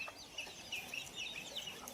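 A hen and about fifty-day-old native village chicks cluck softly and steadily, with small high chirps scattered throughout, close by and without any talking.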